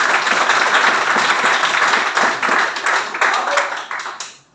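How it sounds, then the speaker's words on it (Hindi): A crowd claps steadily in a dense, sustained burst of applause that fades out at the end, during a property investment presentation. "वो तालियां बजा देंगे"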